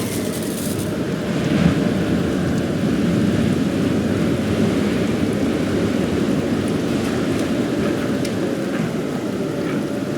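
A storm spell cast in Divinity Original Sin Enhanced Edition gives a loud, sustained roar of rumbling thunder and pouring rain that holds steady for the whole stretch, with no voices.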